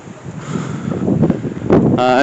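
Rough wind buffeting the microphone at Muncaster Castle in Cumbria, rumbling and gusting throughout, with voices mixed in beneath the low roar.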